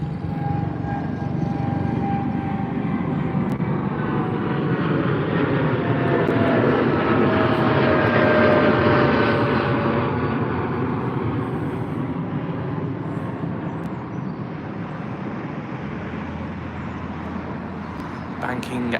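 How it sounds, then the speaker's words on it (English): A Royal Jordanian Boeing 787-8 departing London Heathrow gives a loud, continuous jet roar that swells to a peak near the middle and then eases slightly as it climbs and banks away. "Nope, Royal Jordanian taking off here out of London Heathrow."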